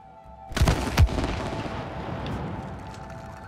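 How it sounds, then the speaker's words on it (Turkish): In the co-op game It Takes Two, two sharp, loud blasts go off in quick succession about half a second apart. A lingering rumble and a steady background tone follow. "Patlat şimdi orayı."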